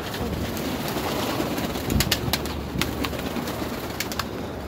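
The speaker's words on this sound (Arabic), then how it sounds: "بص فرد الحمام اللي بيبقى سنه صغير بيبقى عامل ازاي" Pigeons cooing in a loft, a few soft coos over steady background wind and ambient noise, with no talking.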